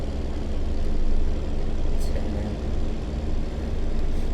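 Kenworth T800 truck engine in American Truck Simulator after a shift into fourth gear, a steady heavy low rumble with slight swells in load, continuous and fairly loud across the whole stretch.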